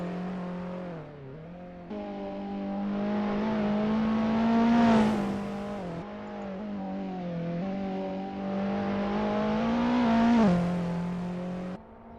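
Several race car engines from a sim racing game on the Nordschleife drone and rev continuously, pitch rising and falling through gear changes, loud and steady throughout with no voices.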